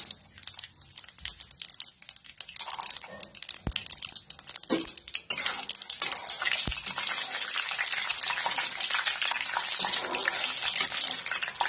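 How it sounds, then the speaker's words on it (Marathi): Peanuts roasting in a pan sound like a scratchy rustle and rattle that turns into a steady, dense hiss midway through, heard close up with no clear talking. "शेंगदाणे चांगले भाजून घ्यायचे ह्याच्यामध्ये।"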